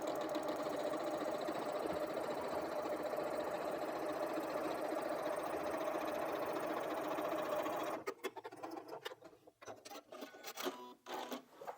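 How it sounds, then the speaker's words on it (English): Sewing machine stitching a quarter-inch seam with a quarter-inch foot on a quilt block, a steady close whirring run for about eight seconds, then stopping into quieter handling clicks and rustles. "I'm going to sew 1/4 of an inch on either side of the line."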